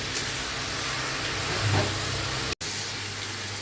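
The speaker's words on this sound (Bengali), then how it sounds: "এটা একটু ভালো করে নাড়াচাড়া করে নিয়ে আরও খানিকটা ভাজা করতে হবে" Snake gourd sizzling and frying in a pan while being stirred, a steady close hiss with a brief scrape partway through, no voices.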